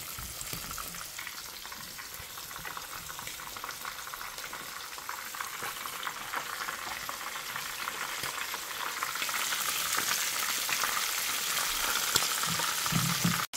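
Floured mackerel fries in hot oil over medium-high heat, giving a steady, close sizzle and crackle that runs throughout and grows slightly louder toward the end, with no talking.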